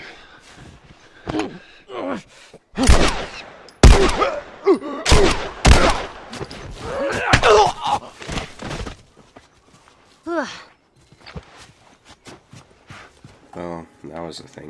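Gunfire and a smoke bomb in The Last of Us: several sharp shots crack in quick bursts among loud bangs and scuffling, with voices talking between and over the action, then the game noise dies down to quieter sounds.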